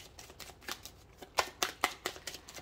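A deck of tarot cards is shuffled up close in a quiet room, giving a run of quick, crisp riffles and slaps in an uneven rhythm.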